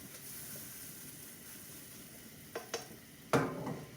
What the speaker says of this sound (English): That's going to soak right up into the mushrooms that are sauteing with the onions and garlic.